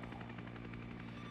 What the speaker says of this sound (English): Is the transport helicopter the one sitting spun up on the runway?